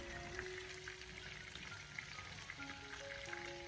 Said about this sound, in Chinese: 先把它慢慢的煎制，先把鸡皮的这一面先给它煎香